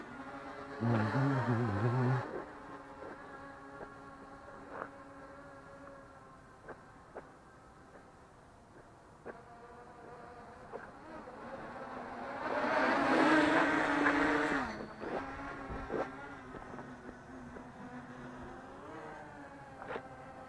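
An XK X350 quadcopter with Racerstar motors flying outdoors, its motors giving a steady whirring drone that surges loudly in two bursts, at the start and again mid-flight.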